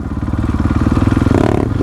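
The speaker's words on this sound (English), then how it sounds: "Graham Jarvis, do wheelie." An off-road motorcycle revs hard and close while popping a wheelie, its engine pulsing rapidly and rising in pitch over a couple of seconds.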